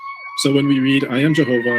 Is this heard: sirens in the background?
yes